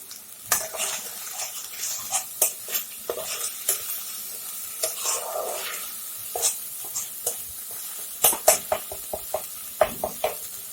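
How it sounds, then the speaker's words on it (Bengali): Spices with onion, cumin, chilli and turmeric powder fry in a pan while a utensil stirs and scrapes, giving a soft sizzle under frequent sharp clinks and scrapes close up. "মশলাটা আমার ভাজা হয়ে গেছে"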